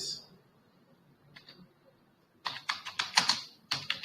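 Fast bursts of typing on a computer keyboard while entering a plot title in MATLAB, crisp clustered clacks near the mic in the second half after a quiet start with a couple of faint taps.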